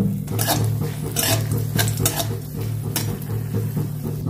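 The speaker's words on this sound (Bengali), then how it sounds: "এতে লঙ্কা ভেজে নেব" Chillies fry in oil with a light crackle beneath repeated sharp scrapes and clinks of a metal spatula against the pan, while a low steady hum from the stove continues throughout.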